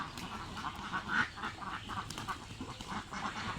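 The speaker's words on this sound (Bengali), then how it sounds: "হাঁসগুলো ভয় পেয়েছে।" A flock of frightened farm ducks quacking in overlapping bursts, close and continuous, the calls rising and falling over a noisy yard background.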